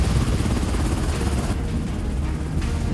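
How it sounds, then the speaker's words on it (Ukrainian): A helicopter flies near a mountain peak in the Canary Islands, its loud steady rotor thump and engine roar filling the scene continuously, slightly easing toward the end, with no voices. "робочі, які прилетіли на цьому вертольоті"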